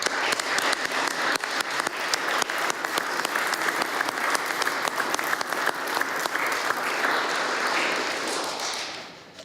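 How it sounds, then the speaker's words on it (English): A ceremony audience claps for bravery medal recipients in Nova Scotia, a dense, even wash of applause with some louder individual claps near the front, fading out at the end. "To our medal recipients, we applaud you again."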